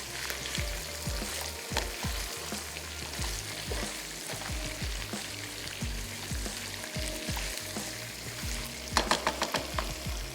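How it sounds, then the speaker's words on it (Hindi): Chicken pieces for murgh cholay fried in a pan and turned over, with a continuous close sizzle and intermittent utensil knocks and scrapes as the pieces are flipped. "थोड़ा सा उलट पुलट लेते हैं ताकि चिकन जो है वो तमाम तरफ से अच्छी सी गोल्डन हो जाए।"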